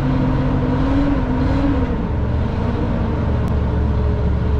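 An old Coachmen Classic RV with dual exhaust idles as it warms up, a loud, steady low engine rumble with a faint higher hum that holds throughout, with no voices.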